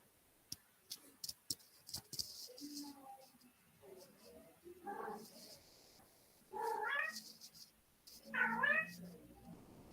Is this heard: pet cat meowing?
yes